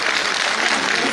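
Applause from an audience at a Kumar Vishwas poetry recital honouring Atal Bihari Vajpayee, a dense steady wash of clapping that stays loud and even through the short moment.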